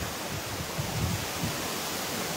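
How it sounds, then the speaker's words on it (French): Cascade de la Queue de Cheval, a waterfall in the Jura, gives a steady broadband rush of falling water with a low rumble, constant and fairly faint throughout. "Et ça, c'est une des cascades qu'on pourra revenir l'hiver."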